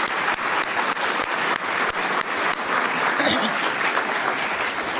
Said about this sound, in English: Can we give her the clap for that one?